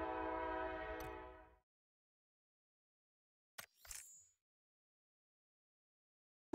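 A train horn sound effect blares on a PUBG livestream, a loud sustained blast for about a second and a half, then near silence with a couple of short faint clicks.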